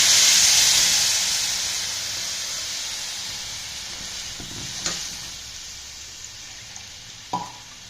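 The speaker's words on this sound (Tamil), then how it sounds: "பாருங்கள், குழம்பு நல்லா கொதிச்சு வருது." Tamarind yam kuzhambu in a pot gives off a steady steamy hiss that slowly fades, with a couple of faint clinks near the end.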